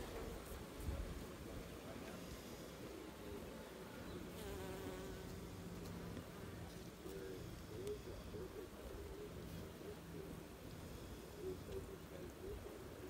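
Honey bees hum and buzz around an open hive with frames of honey, pollen and brood, a steady, quiet drone that continues throughout.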